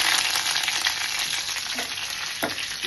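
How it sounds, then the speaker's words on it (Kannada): Mustard seeds, cumin, dried chillies and curry leaves crackle and sizzle loudly in hot oil in a home kitchen, a steady dense frying hiss with occasional sharper pops, close up and with no talk. "ಸಾಸಿವೆ ಚಟಪಟ ಅಂತಿದ್ದಾಗೆ ನಾವು ಅದಕ್ಕೆ ಆಡ್ ಮಾಡ್ತಿದ್ದೀವಿ ಜೀರಿಗೆ ಹಾಕ್ತಿದ್ದಾಗೆ ಇದು ಒಣಮೆಣಸಿನ್ಕಾಯಿ, ಕರಿಬೇವಿನ ಸೊಪ್ಪು"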